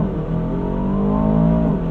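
An Aston Martin DBX 707 SUV engine roars hard under a full launch-control start, a loud, rising mechanical howl heard from inside the vehicle, with no talking.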